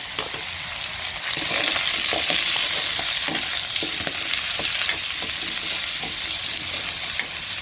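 Cauliflower sizzling and frying in a hot pan with pork, a steady, dense crackle that runs continuously and close up, with small pops and stirring scrapes throughout and no one talking.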